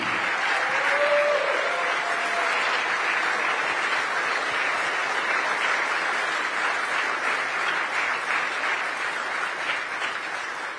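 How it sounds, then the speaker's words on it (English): Sustained audience applause at a business summit in Miami after the President of the United States is introduced, a dense steady clapping that fills the hall for the whole stretch and fades slightly toward the end. "Please, a round of applause for the President of the United States of America."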